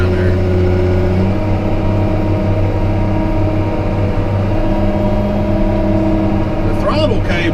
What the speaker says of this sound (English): The throttle cable on this loader is stuck. I don't even have my foot on the throttle right now.